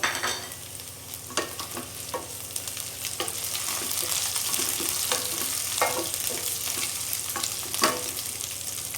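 Green chilies sizzle and fry steadily in a pan of hot oil for Punjabi-style chana dal, with a continuous crackling hiss and occasional sharper pops and stirring clinks throughout.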